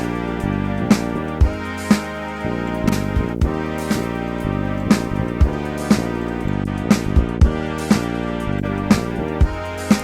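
Brass and drums run through the Tape Pro tape cassette emulation plugin on an iPad, with an overdriven mix bus adding wow to the drums: steady, evenly spaced drum hits under sustained warm brass chords throughout, no talking.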